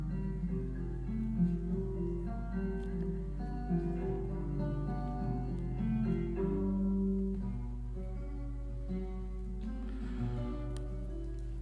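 A short AI-generated Portuguese music sample plays a murky, rather rough blend of tones over a constant low hum. It is fairly quiet and runs for about twelve seconds with no voices.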